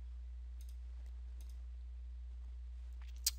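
A micro SD card being ejected gives faint scattered ticks over a low hum, then one sharp, distinct click near the end.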